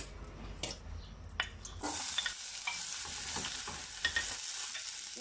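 Onion dropped into olive oil for a Tunisian courgette and meat sauce, with a few quiet clatters and then a steady close hiss of frying broken by small pops.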